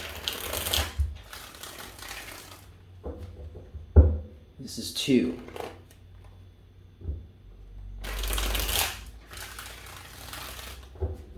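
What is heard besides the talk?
shuffling tarot cards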